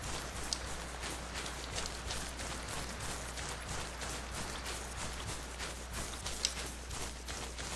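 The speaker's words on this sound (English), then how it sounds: "Wow, a lot of rain coming down now." Heavy rain in the video game DayZ falls as a steady, faint patter and hiss with scattered drop ticks, continuous throughout, no voices.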